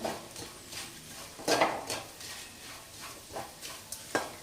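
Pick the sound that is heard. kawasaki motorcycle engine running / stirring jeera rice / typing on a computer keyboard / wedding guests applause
stirring jeera rice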